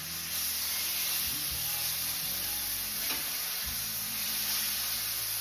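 Coulotte steak searing in a pan gives a steady, dense sizzle throughout, with faint scraping as the meat is shifted to the pan's edge.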